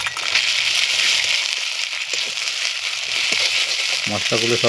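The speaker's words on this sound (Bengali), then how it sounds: "যত কিছু আছে বাটা মশলাগুলো এক এক করে সব কিছু দিয়ে আর কি ভেজে নিতে হবে পেঁয়াজের সঙ্গে" Ground spice pastes, including cumin paste, frying with onions in a pan for egg tarka, giving a loud, continuous sizzle and crackle close up, with stirring clatter toward the end.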